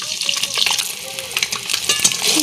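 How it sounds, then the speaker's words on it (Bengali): Eggs fry in a hot pan with a dense, continuous sizzle and crackle, close and loud, with a few stirring scrapes mixed in. "ডিমটা ভেজে নেব।"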